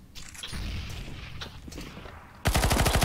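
Gunfire in the video game CS:GO, with a muffled stretch of shots and low thuds followed by a sudden loud, rapid automatic burst near the end. No one speaks.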